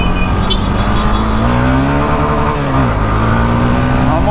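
A Honda CB Twister 300F motorcycle engine revs up close, its pitch rising and falling in a steady whine as it accelerates, loud and continuous throughout.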